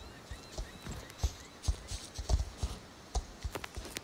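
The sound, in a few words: horse hoofbeats while riding a Danish Warmblood in Star Stable Online video game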